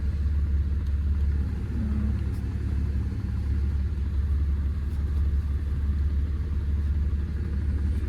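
A 1991 Chevrolet Blazer engine idling, a steady low rumble that holds even and continuous the whole time, heard up close with no talking.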